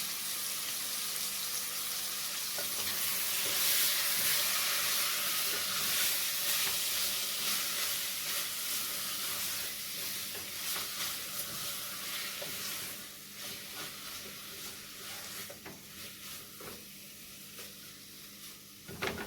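A pot of stew seasoned with salt and pepper simmers on the stove, a soft continuous sizzle and bubbling hiss with occasional light clinks of stirring, fading somewhat quieter toward the end.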